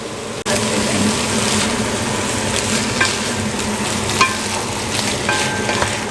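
Lamb searing in a hot pan gives a steady, close sizzle throughout, with a few light scrapes and clinks of stirring and no speech.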